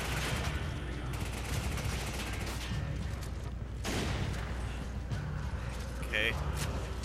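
Gunfire aimed at tanks in the video game Resident Evil 5, mixed with rumbling explosions and a dense battle din. A voice speaks partway through, and the firing continues steadily under it.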